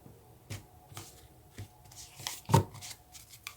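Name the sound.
shuffling tarot/oracle cards by hand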